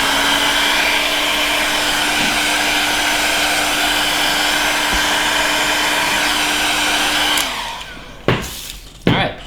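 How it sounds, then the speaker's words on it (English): A heat gun blows steadily and loudly up close to dry alcohol off a shoe sole, with a constant whooshing drone before it cuts off, followed by a few knocks. "you can take your heat gun, dry off the alcohol."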